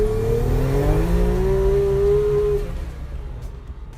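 A street-registered race car shaped like a 240Z accelerates hard, its engine tone climbing loudly for a few seconds before the sound eases off and fades as it pulls away.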